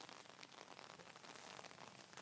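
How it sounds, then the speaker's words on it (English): Rain falls steadily outdoors by a pond, a faint, even hiss of drops with no pauses and no voices. "Raining."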